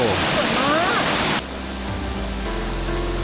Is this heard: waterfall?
yes